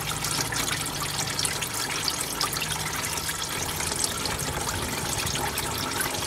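Transmission fluid pouring and splashing out of a Buick Allure's transmission pan during a fluid and filter service, a continuous close gushing stream with spattering.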